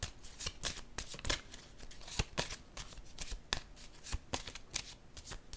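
Oracle cards handled and set down at close range, a quick series of crisp papery flicks, shuffles and taps, soft and continuous with no voice.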